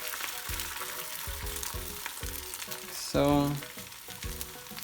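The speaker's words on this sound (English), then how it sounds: "I'm going to put the oil around the pan and I'm going to put in half of the egg." Beaten egg poured into an oiled pan to cook like a crepe, giving a loud close sizzle with rhythmic scraping or stirring, then a sudden hiss as it hits the hot oil; a single word is spoken.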